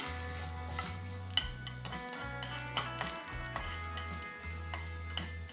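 Fenugreek and coriander seeds dry-roasting in a pan, with repeated metallic scrapes and clinks of a spoon stirring against the pan over a steady low hum, close and moderately loud.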